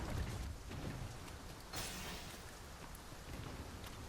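Stormy weather in Dragon's Dogma 2: steady rain hiss with a low rumble early on and a brief brighter burst of noise partway through, continuous and without speech.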